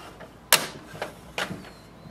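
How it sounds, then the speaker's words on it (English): The ink cartridge door of an HP DeskJet 2755e printer is opened, giving a sharp plastic clack followed by a couple of lighter knocks and a second snap, close up in a quiet room. "Open the ink cartridge chamber door."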